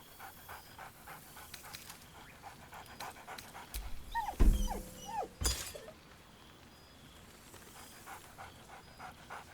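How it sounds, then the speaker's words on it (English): Scratch, the dog in Baldur's Gate 3, pants softly and steadily, with a brief burst of excited sound and a sharp crash near the middle. "Scratch barks merrily in something like agreement."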